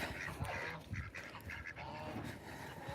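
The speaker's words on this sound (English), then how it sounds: "There's the geese, we'll let them out in a minute." Geese and ducks honk and quack in a busy, overlapping stretch throughout, fairly close, while water is brought to them at their pen.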